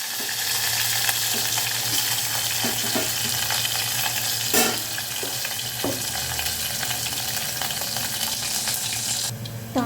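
Seeds, onion and curry leaves sizzle in hot oil as a tempering for Nellore-style pappu charu, a loud continuous crackle near at hand with occasional stirring knocks and spoon scrapes, no speech.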